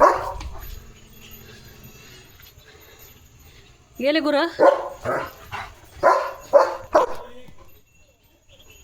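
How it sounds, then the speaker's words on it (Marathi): A German Shepherd barks several times in quick succession, near and loud, following a brief spoken phrase and a quiet stretch. "आता रानातून घरी आले की परत भुंकायचं"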